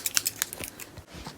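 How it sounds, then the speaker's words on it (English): Scissors snip quickly through a shipping label on a parcel, a short run of crisp, close cutting clicks at a fairly quiet level with no talk. "Scissors."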